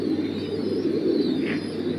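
French pigeons cooing in a loft, a steady low murmur of many birds close by, continuous and fairly loud with no talking.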